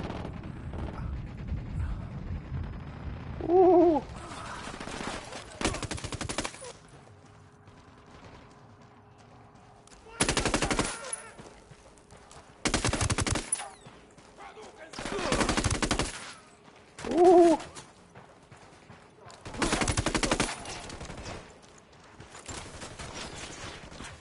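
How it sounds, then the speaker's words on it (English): Bursts of video game gunfire aimed at the player during an espionage mission in La Paz, several separate volleys spread across the stretch with quieter gaps between them, loud and close. "Man, who is shooting at me?"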